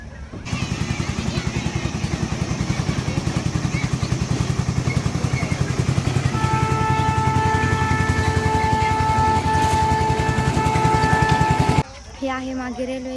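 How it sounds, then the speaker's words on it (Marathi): A small amusement park ride train's engine at Motibag, Jalna chugs with a fast, even rattling clatter and a rising whine, loud and close, then stops abruptly near the end. "आम्ही आता रेल्वेत बसून आहोत"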